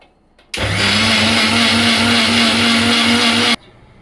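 A loud, steady mixer grinder whir blending mango with curd starts abruptly, runs evenly for about three seconds with a constant hum, then cuts off sharply.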